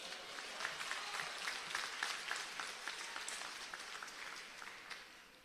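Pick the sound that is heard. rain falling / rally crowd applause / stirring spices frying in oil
rally crowd applause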